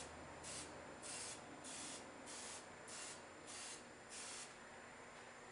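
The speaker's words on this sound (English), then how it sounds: "spray a bit of oil in each cup" Several short bursts of cooking oil spray hiss into a muffin tin, about seven in a steady rhythm, one per cup, each lasting under half a second, close and quiet.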